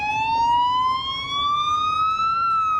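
An ambulance siren wails in a slowly rising steady tone with traffic rumble underneath at the scene of an attack, fairly close and continuous, with no voices over it.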